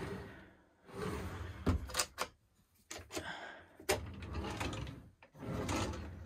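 Drawers in a Northstar Laredo SS truck camper slide open and shut repeatedly, with rolling runners, sharp clacks and thuds as they close, loud and close by.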